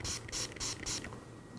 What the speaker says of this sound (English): you spray that into your mouth and you spray it under the tongue